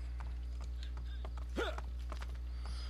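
A horse in the video game Assassin's Creed Brotherhood, with soft clip-clop hooves and a brief whinny in the middle, heard over a steady low hum.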